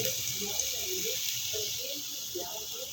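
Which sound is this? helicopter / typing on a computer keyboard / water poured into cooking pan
water poured into cooking pan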